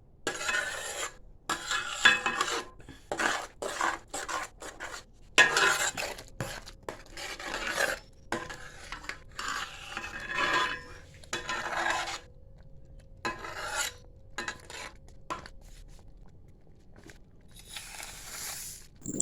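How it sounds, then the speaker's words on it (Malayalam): Grated coconut is stirred in a pan over a low flame, giving a steady, irregular rasping scrape with frequent pauses. It sounds close and moderately loud, and no one speaks. "മുഴുവൻ തേങ്ങയും ഇട്ടുകൊടുത്തതിന് ശേഷം ഒരു 15 മിനിറ്റ് ഇളം തീയിൽ വെച്ച് ഇളക്കുക"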